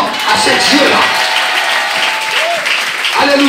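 Applause fills a church congregation, steady and dense throughout, with voices calling out over it.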